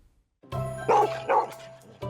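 A seven-year-old adopted shelter dog barks twice up close, loud and sharp with a whiny edge, followed by a short yip at the end, with no talking.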